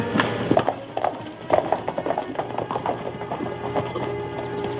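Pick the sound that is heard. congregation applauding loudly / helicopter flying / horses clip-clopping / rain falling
horses clip-clopping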